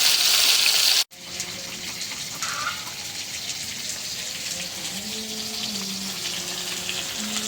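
Fish fries in a pan with a continuous hissing sizzle that resumes after a brief cut, steady and fairly close, with faint voices in the background.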